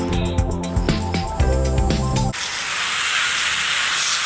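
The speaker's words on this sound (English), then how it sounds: "I'm going to go out and rinse this thing off." Water spraying from a hose onto a Dodge Viper differential cover, a loud steady hissing rush that starts abruptly after some tonal background noise and continues to the end.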